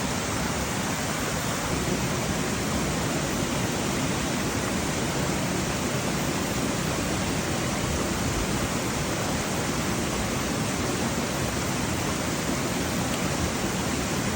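Water flowing steadily at a stream or falls on a cold day in Ireland, a dense, even rushing wash that stays constant and fairly near, with no voices.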